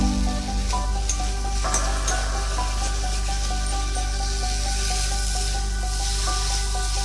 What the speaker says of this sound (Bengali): এবার এর মধ্যে আলুগুলো দিয়ে দেবো গ্যাসটা একটু কমিয়ে দিলাম এবার বাড়িয়ে দেবো